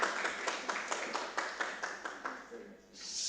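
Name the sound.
audience applause after presentation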